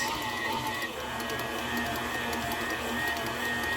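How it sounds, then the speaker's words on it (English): A KitchenAid stand mixer kneads bread roll dough at a steady hum with a faint high whine and light periodic knocking, running continuously at moderate volume. "let's show you what's in the KitchenAid. Okay, so I just plopped the dough in there"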